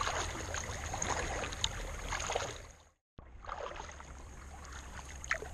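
Kayak paddling on the Ottawa River: steady watery swishing and splashing throughout, with a brief drop to near silence midway before the paddle strokes resume.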